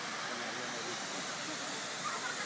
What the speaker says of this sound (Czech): Takový vodopády máme pěkný, přímo v centru